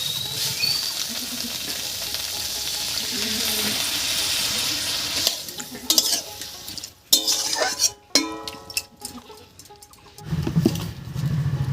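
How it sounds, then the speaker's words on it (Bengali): Cauliflower stems cook with mustard paste and a little added water for a Bengali chorchori, a steady close bubbling sizzle that gives way to clattering stirs and pan knocks, then the simmer returns. "এবারে বেশ কিছুক্ষণ ভালো করে রান্না করে নেব ফুলকপির ডাটাটা"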